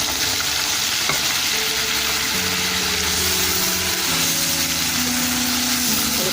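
Garlic ginger paste frying with browned chicken in a karahi, a steady loud sizzle and crackle throughout with faint stirring, no voices.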